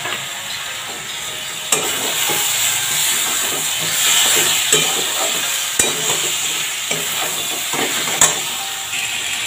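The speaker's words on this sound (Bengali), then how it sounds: "এটা আমি এবার কড়ার মধ্যে ঢেলে দেবো।" Whisked spiced yogurt masala with fried potatoes and soybean chunks sizzles loudly in a hot kadai, a steady close hiss broken by occasional clicks and stirring knocks, no talking.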